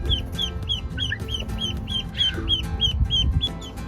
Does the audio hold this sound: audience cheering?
no